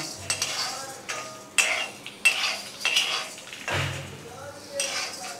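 A metal spoon scrapes and clinks in a pan while grated coconut and tamarind are stirred and fried, with irregular sharp knocks and scraping strokes over a faint background, close and moderately quiet.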